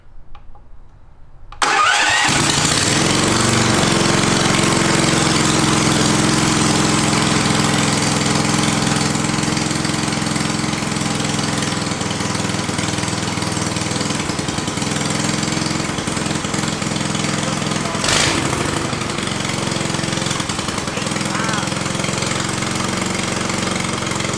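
A cheap 18 HP Temu engine mounted on a go kart starts abruptly after a short quiet moment, then runs continuously at a loud, steady, rumbling idle close by.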